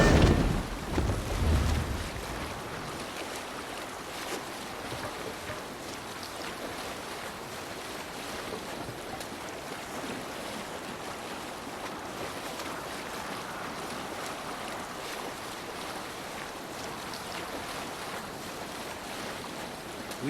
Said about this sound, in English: Raise the mast! Good sailing wind here, Eivor.